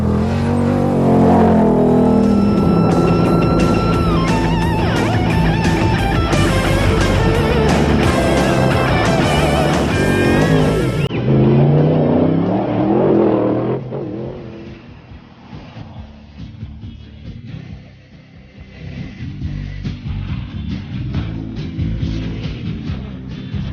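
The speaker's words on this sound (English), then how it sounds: "these guys who race their pickup trucks for thousands and thousands of miles" Roaring pickup truck engines blast past loudly in a desert race, then fade into a more distant rumble of the trucks driving over rough ground.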